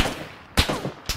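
Gunfire in the battle royale game PlayerUnknown's Battlegrounds: two sharp, loud gunshots about half a second apart, each a sudden broadband crack with a brief tail, over faint background game ambience.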